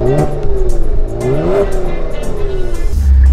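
A 2018 Kia Stinger GT engine revs up loudly while driving, pitch rising and falling through gear changes inside the cabin, with a low rumble settling at the end.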